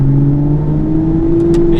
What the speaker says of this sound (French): Même de l'intérieur, on entend hyper bien le moteur.